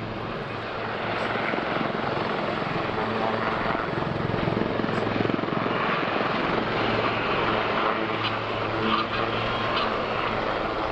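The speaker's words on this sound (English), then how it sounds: "The Lynx is a very agile helicopter" Lynx Mark 8 helicopter performing a display at the 2011 Cotswold Airshow, a steady loud rotor and turbine roar that holds for the whole stretch with slight swells as it manoeuvres.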